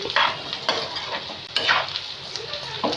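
Ridge gourd pieces frying slowly in a pan with chilli garlic spice mix, giving a soft continuous sizzle broken by repeated scraping stirs of a utensil against the pan, close and fairly quiet.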